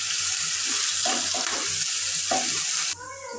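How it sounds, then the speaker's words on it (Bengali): Onions frying in a pan, a soft sizzle under gentle stirring scrapes that come in short bursts, then the sizzling drops and quiets near the end. "পেঁয়াজটা আমি লাল করে ভেজে নেব।"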